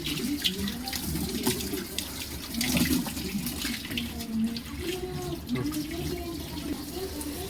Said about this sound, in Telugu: వాటర్ ఫిల్ చేసుకుందాం.